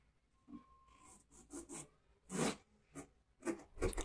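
Potatoes that were fried earlier are stirred into a spice paste in a pan. A few soft, short scraping and sizzling bursts repeat irregularly, faint and close, with no talk.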